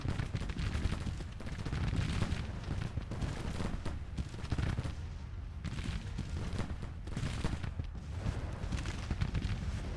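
A 20-pounder Parrot cannon fires during a Civil War battle at Antietam in the Grand Tactician strategy game, heard as loud rumbling reports within a dense, continuous din of gunfire.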